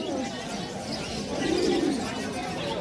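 Pigeons coo at a busy pet market in Uluberia, a soft rolling coo swelling midway through a steady crowd murmur and faint background chatter.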